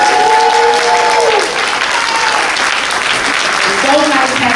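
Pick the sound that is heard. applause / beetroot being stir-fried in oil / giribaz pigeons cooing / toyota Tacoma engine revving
applause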